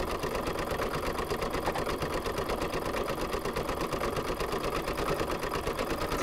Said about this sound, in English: now it's going to do a little decorative zigzag stitch